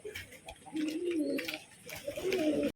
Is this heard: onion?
no